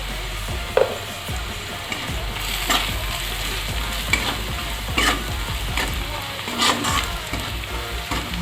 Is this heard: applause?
no